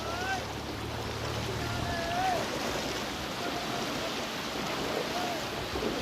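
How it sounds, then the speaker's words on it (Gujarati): Broad, steady rushing of floodwater about three to five feet deep flowing close by, out of houses, with a constant wash of noise and faint whistling tones drifting over it. "આ લોકોના ઘરોની અંદરથી પણ જો એટલો પ્રવાહ પાણીનો નીકળે છે"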